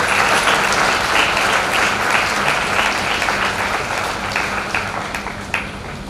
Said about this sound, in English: I think a big round of applause is due.